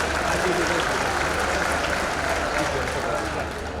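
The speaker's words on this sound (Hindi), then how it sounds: "महापौर पुष्यमित्र भार्गव जी के लिए जोरदार तालियां बजाएं" A large crowd at a civic event applauds the mayor, a dense, loud, steady wash of clapping with cheering voices mixed in.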